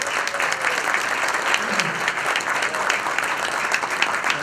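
Steady applause from an audience at a State of the City address, a moderate wash of clapping hands with a low murmur underneath.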